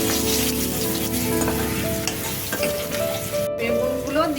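Nigella seeds (black cumin) sizzling in hot oil, a dense continuous crackling fry close by, with a few stirring clinks and scrapes over about four seconds.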